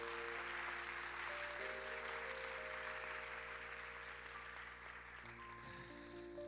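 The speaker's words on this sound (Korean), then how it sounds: "우리 좀 박수로 좀 축복합시다." Steady applause from a church young-adults worship congregation welcoming a visitor, a dense continuous patter of clapping that holds for several seconds and eases slightly near the end, with a faint tonal hum underneath.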